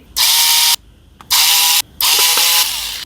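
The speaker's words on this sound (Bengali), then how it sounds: "এই বোর্ডের মধ্যে 3টা স্ক্রু আছে, স্ক্রুগুলো খুলে নিচ্ছি" A powered screwdriver removes screws from an LED light's circuit board in three close, loud whirring bursts separated by short pauses.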